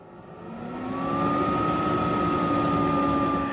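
A diesel heater starting up: an engine-like whir rises and settles into a steady droning hum with a thin tonal whine and more consistent exhaust, growing louder over the first second then holding.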